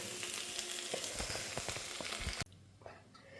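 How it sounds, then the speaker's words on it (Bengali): Chowmein tossed and fried in a kadai, a dense, loud sizzle with crackling bursts and stirring scrapes that stops abruptly partway, leaving a faint low hum and a few soft knocks. "তো আমি এখন এই চাউমিনটা এখানে ঢেলে একটু কড়াইয়ে উলট পালট করে দেবো।"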